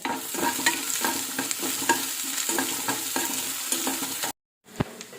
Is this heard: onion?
yes